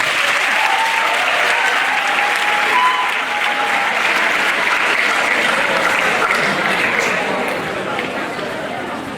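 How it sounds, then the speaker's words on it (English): Students at a university entrepreneurship orientation programme applaud their lecturers, a dense, even roar of many clapping hands sustained for about nine seconds with faint chatter beneath, tapering slightly toward the end. "Please clap for your lecturers."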